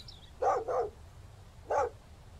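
Dog companion in the survival video game Mist Survival barks three times, two quick barks close together then a single one after a pause, fairly faint over quiet game ambience.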